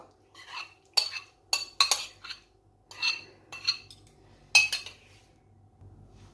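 A spoon taps a chunda mango mixture out into a pan, giving a series of sharp metallic clinks and knocks in uneven clusters, close and clear against a quiet background.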